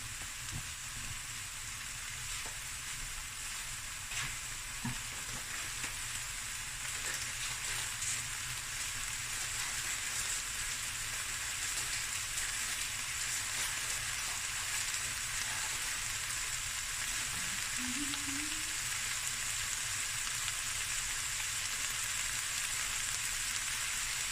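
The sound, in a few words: clam and crab fried rice stir frying in a pan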